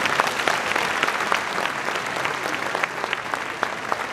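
Guests at a New Year's wishes evening clap together in sustained applause, with sharper individual claps standing out from the crowd's continuous patter.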